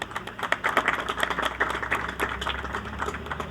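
An audience claps steadily at a Popular Electronics event in Ethiopia honoring actor Surafel Teka, producing a dense, continuous patter of many hands at moderate volume.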